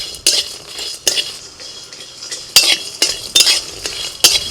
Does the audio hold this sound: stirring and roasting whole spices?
yes